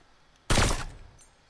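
A single suppressed sniper rifle shot in Fortnite rings out as one sharp, close burst that decays over about half a second, with no talk.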